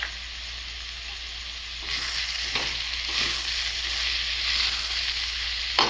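Ponnaganti greens and moong dal fry in a pan as tomato pieces go in, a steady close sizzle that grows louder and denser partway through, with soft stirring scrapes.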